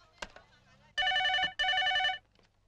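A telephone rings on a film comedy scene's phone line in two long electronic trills with a brief gap between them, loud and clear after a short sharp click at the start.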